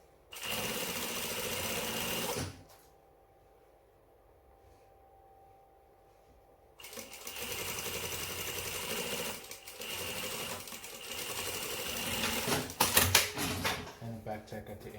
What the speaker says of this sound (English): Place it on your machine, lower your needle, and again you want to do a back tack in the beginning.